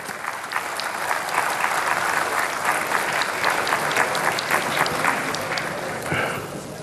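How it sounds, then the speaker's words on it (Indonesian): Sustained audience applause in a formal assembly hall during an Indonesian presidential address, dense, even clapping from a large crowd lasting several seconds and fading slightly at the end. "Kita tepuk tangan."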